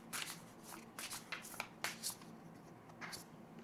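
Tarot cards are shuffled and laid down in a quiet room, a run of soft papery riffles and slaps coming in irregular bursts, close and moderately loud, with no talking.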